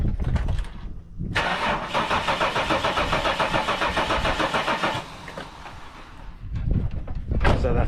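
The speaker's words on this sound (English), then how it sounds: "I'll just show you that it doesn't start actually." A Holden VY car's starter motor cranks steadily with a rhythmic whirring chug for several seconds as the engine fails to catch, with brief clunks before and after, close and loud.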